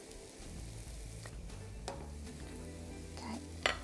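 A crêpe sizzles steadily in a hot pan just after being flipped, a soft continuous frying hiss with a few light scrapes of a fish slice, no one talking.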